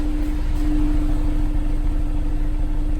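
A Honda S2000 engine, previously misfiring, idles smoothly and steadily with a low, even hum and no sputters or skips.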